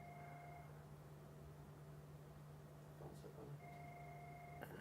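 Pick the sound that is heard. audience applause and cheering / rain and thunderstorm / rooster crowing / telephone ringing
telephone ringing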